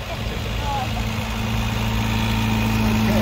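Ford Model A Roadster engine idling at a car show as it warms up, a steady low rumble close by, with people talking over it.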